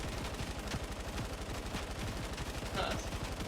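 A hacksaw gun held on continuous fire in Fortnite Save the World, giving a rapid, steady mechanical rattle of shots without a break, moderately loud under a busy game background.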